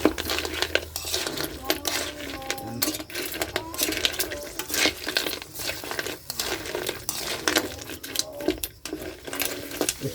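Crab and seashells stirred in coconut milk in a pot, dense clattering of shells and metal scraping in an irregular, continuous rhythm, close and busy.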